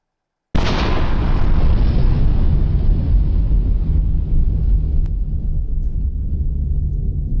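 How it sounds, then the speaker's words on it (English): In the online shooter game Line of Defense, a sudden loud boom bursts in and rolls into a sustained, rumbling roar that slowly fades but keeps going to the end. "I heard explosions for a second"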